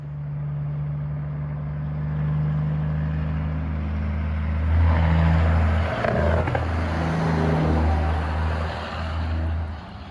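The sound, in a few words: Peterbilt truck using jake brake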